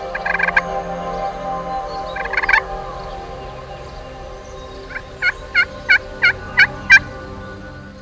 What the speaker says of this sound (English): we hear gobbles early that morning, but they're kind of off in a distance